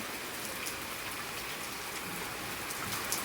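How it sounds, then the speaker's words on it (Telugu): Heavy rain pours steadily outdoors, a dense, continuous hiss of drops striking surfaces with no voices over it, loud and unbroken throughout. "ఓ ఇప్పుడు బాగా పెరిగిందండి ఈ వర్షం"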